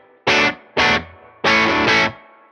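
Electric guitar played through a Whimsy Machines Sweet Tooth distortion pedal: three loud, saturated chord bursts, the last one sustained longer, each cutting off into near silence, with no one talking.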